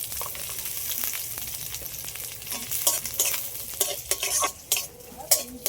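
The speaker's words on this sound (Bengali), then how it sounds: "এবার এর মধ্যে দিয়ে দেবো পেঁয়াজ কুচি আর রসুন কয়েক ছাড়িয়ে রেখেছি, এর দিয়ে দিচ্ছি।" Chopped onion and garlic frying with spices in a pan, a steady sizzle broken by repeated scraping clinks as a utensil stirs against the metal, growing busier toward the end.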